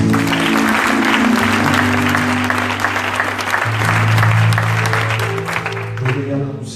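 A church congregation claps and cheers in praise of the Lord, a dense, loud sustained applause with sustained tones from a keyboard or organ running underneath throughout.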